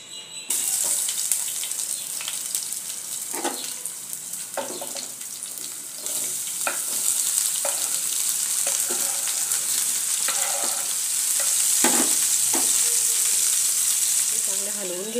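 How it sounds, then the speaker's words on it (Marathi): Sliced bitter gourd (karela) frying in hot oil in a kadai, giving a loud, steady sizzle throughout, broken by repeated scraping knocks as the slices are stirred, with no talking. "तेल गरम झालंय, आता त्यात कारली टाकते."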